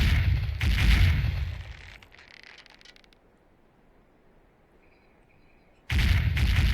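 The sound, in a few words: ship cannon broadside firing in Sea Dogs video game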